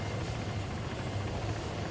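A helicopter in the Arma 3 military simulator hovers during a landing approach, giving off a steady, loud rotor and engine drone that holds without a break.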